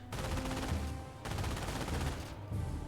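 Gunfire in the Company of Heroes 1 real-time strategy game, dense bursts of rapid machine-gun and rifle fire sustained throughout, with brief gaps between volleys.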